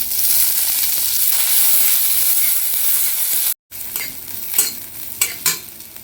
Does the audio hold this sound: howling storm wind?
no